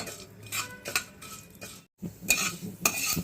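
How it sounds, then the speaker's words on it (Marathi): Fenugreek seeds frying in a pan over low gas, stirred steadily, giving soft scraping and clinking strokes with a faint sizzle and a brief gap of silence midway. "मंद गॅसवर सतत हलवत हा जो मेथीचा रंग आहे तो बदलेपर्यंत फ्राय करून घ्यायची आपल्याला मेथी"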